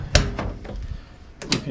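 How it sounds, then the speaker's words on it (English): A car door on a Volvo 244 under restoration is opened, giving a sharp latch click followed by a softer rattle, then another pair of clunks near the end, close and fairly loud in a quiet workshop. "if I open the door"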